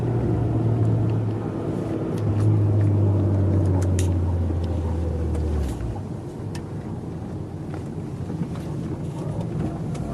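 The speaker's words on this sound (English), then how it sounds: "I'm just driving home now." A car drives along a road with a steady low engine rumble and road noise throughout, the engine note rising and then settling before continuing evenly, with no talk.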